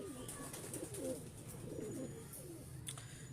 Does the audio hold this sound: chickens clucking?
no